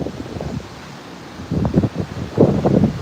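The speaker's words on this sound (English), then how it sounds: "Definitely choppy, windy, but the breeze feels excellent to me." Gusty wind in the Philippines buffets the microphone in low rumbling bursts, calmer at first and then swelling into stronger, louder gusts toward the end.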